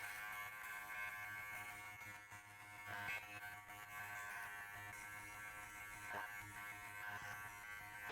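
Electric hair clippers shaving off hair for a severe undercut give a quiet, steady, high-pitched buzz that dips and rises slightly as they pass over the head.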